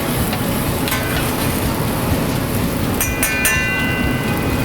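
Diced pancetta and shallot sizzle steadily in a pan, a close, constant crackle and hiss with a few brief louder pops.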